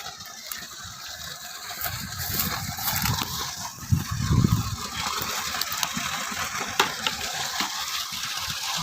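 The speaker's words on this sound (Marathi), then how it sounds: "विहिरीत पाणी पडतंय" Water pours into a village well that is being stocked with fish, a continuous rushing gush mixed with rattling mechanical clatter that swells briefly midway.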